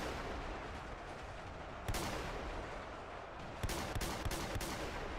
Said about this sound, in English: Let's try firing shotguns in that general vicinity.